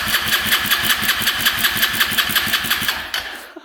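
A 200cc ATV engine is cranked over with the throttle open during a compression test. It gives a fast, even chugging of the starter, loud and close, for about three seconds, then stops without firing.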